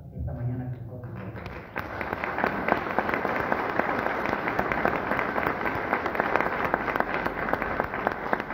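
Audience at a municipal council session breaks into applause after brief talk, a dense, sustained patter of many hands clapping that continues steadily and fairly loud to the end.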